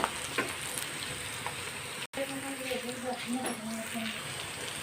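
Chicken, potato and spices frying in oil for an aloo chicken curry, browning in the pan, with a steady close sizzle that cuts out briefly partway through while the pan is stirred.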